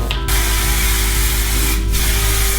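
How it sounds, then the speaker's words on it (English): A can of volume hairspray mists over set hair rollers in a long, loud, steady hiss that runs for about two seconds, with a short break near each end and no talking. "just take a little bit of hairspray and lightly mist it over to set it"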